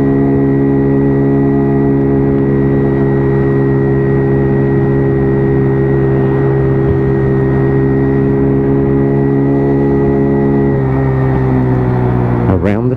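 A WK Colt motorcycle engine drones loud and steady in fourth gear, its low harmonic hum holding even before easing briefly and swelling again as the throttle is opened on a ride through a corner, with a faint voice over it.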